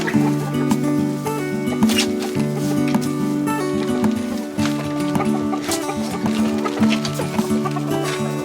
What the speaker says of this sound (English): Now all the chickens are out, they're having fun